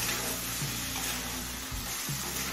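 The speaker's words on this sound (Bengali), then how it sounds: "এখন হাই ফ্লেমে কিছুক্ষণ রান্না করে সমস্ত জলটা শুকিয়ে নেব।" Vegetable filling for savoury patishapta pitha cooking down on high flame in a pan, a steady loud sizzle and frying hiss with occasional stirring scrapes, close and continuous.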